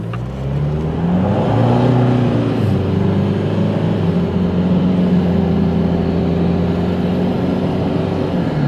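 A car accelerating with a Throttle Grenade throttle controller set to 9, a loud close engine note rising in pitch as it revs up, then holding a steady drone.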